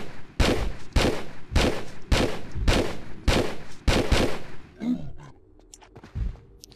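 An enemy weapon in the Tomb Raider 3 finale fires six loud, booming shots at a steady rhythm, each about half a second apart, before fading to quieter rumbles and scattered game sounds.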